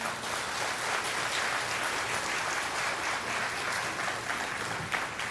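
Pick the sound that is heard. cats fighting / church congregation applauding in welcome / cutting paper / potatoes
church congregation applauding in welcome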